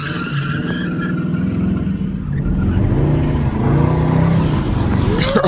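Dodge Hellcat at a Florida legal pit event, its engine roaring and revving hard while the tires skid and squeal, loud and close, with a brief sharp burst near the end.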